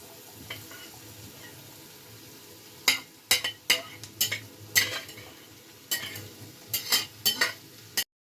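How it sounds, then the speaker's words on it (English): Onion and red pepper fry in a pan while a utensil stirs, with a quiet low sizzle in the background and a cluster of sharp metallic scrapes and clinks in the second half. "we are going to put our onion and red pepper and allow this to fry"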